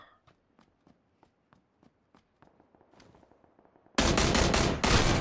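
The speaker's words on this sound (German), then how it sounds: "Wow, hier ist ja was am Schießen." Gunfire in the video game PUBG: soft, regular footsteps first, then a loud, close burst of rapid shots that fills the last second.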